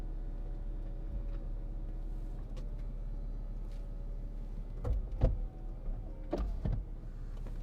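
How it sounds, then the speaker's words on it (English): Electric windows whir down inside a 2006 Mercedes-Benz SLK280 7G-Tronic, with a faint steady motor hum under a low cabin rumble and a few short thumps and clicks toward the end. "I can't remember how far down the windows go, but let me just see"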